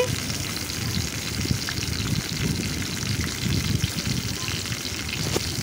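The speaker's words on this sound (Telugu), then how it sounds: "ఆయిల్ వేడెక్కింది కదండి, ఇప్పుడు పచ్చిమిరకాయలు బీరకాయ తొక్కులు వేసుకొని ఫ్రై చేసుకుందామండి" Green chillies and ridge gourd peels frying in hot oil for an Andhra-style chutney, a steady close sizzle and crackle with scattered pops and faint stirring throughout.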